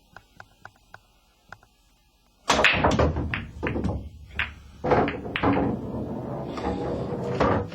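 A pool break in 8-ball: after a few light taps, the cue ball slams into the rack with a sharp crack, followed by a scattered clatter of balls knocking together and rolling across the table.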